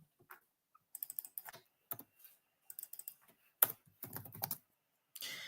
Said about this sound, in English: So after that, Ted DiBiase, let me just type in Ted DiBiase.